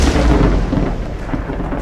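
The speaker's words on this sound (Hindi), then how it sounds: "तभी बादलों में फिर से तेज गड़गड़ाहट हुई" A thunder sound effect in a Hindi audio drama: a loud, close, deep rumbling roll that stays heavy and sustained throughout, with no voices over it.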